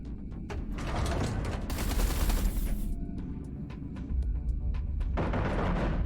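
Sustained weapons fire against base defenses in the space game Everspace 2, with dense rapid shots and booms forming a continuous loud barrage, a brief bright roaring surge in the middle and staccato bursts toward the end.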